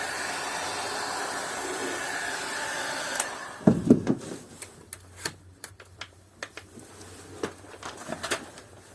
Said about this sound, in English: the hot air gun does tend to blow any loose dust away as well